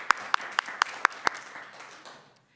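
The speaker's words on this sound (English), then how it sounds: "Round of applause for that." Audience applause at a school board meeting, led by a few sharp, evenly spaced nearby claps over softer scattered clapping that tapers off within about two seconds.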